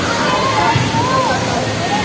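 Water rushes and sloshes continuously at the Matang Tubig cold spring in Monreal, Masbate, swollen by heavy rain, with a voice speaking faintly over the steady flow.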